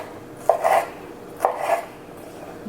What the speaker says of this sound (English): you're gonna cut it into fajita-like slices